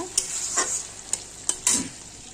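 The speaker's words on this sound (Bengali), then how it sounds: "দিয়ে দিলাম টমেটো কুচি। এখন এটা দিয়ে একটু কষবো" Chopped tomato sizzles in a hot pan for an egg curry, with a steady hiss broken by several brisk scrapes and stirs of a spoon.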